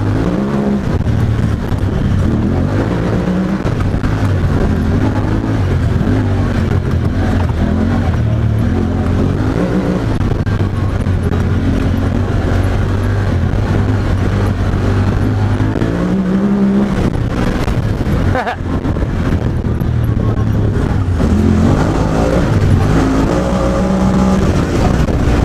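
Honda Talon side-by-side engine droning loud and close while driving, the pitch rising and falling as it holds and shifts gears, continuous throughout.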